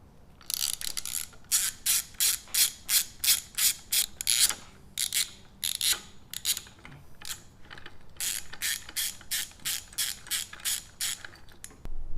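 A ratcheting T20 driver loosens handlebar bolts on a 2020 Harley-Davidson Sportster Iron 1200, giving loud, rapid clicking bursts in a steady back-and-forth rhythm with brief pauses between runs.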